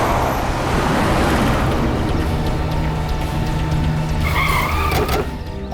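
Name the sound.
car speeding off with skidding tyres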